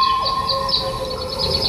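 Wolves howl in a field recording from Algonquin National Park: long sustained, wavering tones hold steady through the short stretch, moderately loud, with faint higher calls rising and falling over a background hum.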